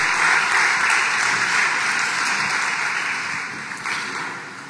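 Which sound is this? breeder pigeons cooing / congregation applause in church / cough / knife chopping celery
congregation applause in church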